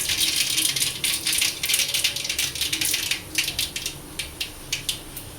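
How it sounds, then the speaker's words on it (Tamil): Mustard seeds spluttering in hot oil in a pan while cooking a mushroom gravy, a dense run of crackling pops that comes in bursts and thins out toward the end. "எண்ணெய் காஞ்ச உடனே கடுகு போட்டுங்க. கடுகு நல்லா பொரியட்டும்."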